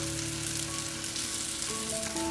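A potato pancake of batter ladled into oil sizzles in an old frying pan over high heat, a dense, continuous crackling hiss that stays loud and steady throughout, with no voices.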